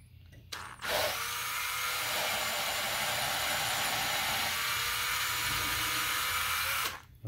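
Small power drill spinning a tiny bit into a foam cannon orifice, lubricated with WD-40: a steady high whir running for about six seconds between brief starts and stops, close and fairly quiet.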